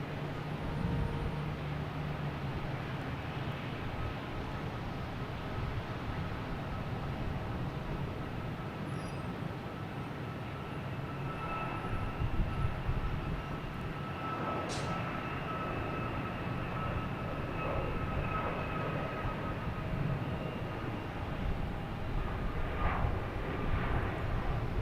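A Delta airliner taking off at Boston Logan Airport, a continuous distant engine roar holding steady throughout under faint ambient noise, with no talking.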